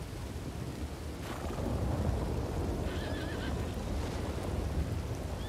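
Horses whinny in a video game over a steady rain-like background hiss, with a brief higher neigh rising out of the wash of noise.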